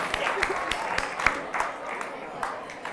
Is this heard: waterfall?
no